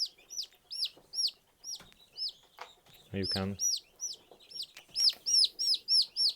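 Backyard chickens cluck and chirp in quick repeated bursts close by, with a short voice speaking briefly in the middle.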